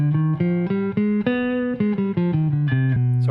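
Clean guitar plays a scale built on the seventh degree of harmonic minor, about a dozen distinct plucked notes in even succession, moving up then back down, close and clear with no voices.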